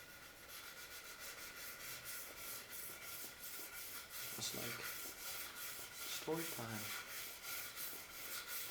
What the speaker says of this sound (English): And now we'll just keep on sanding till we're ready for etching.